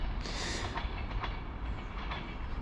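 A train on the Newry–Belfast line departs towards Belfast Central, a steady loud rumble of wheels and engine with faint clickety-clack, heard outdoors with no talking.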